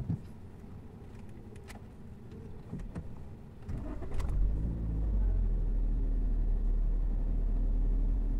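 A manual transmission car's engine cranks and catches, settling into a steady low idle rumble close by after a few seconds of shuffling and quiet movement inside the car.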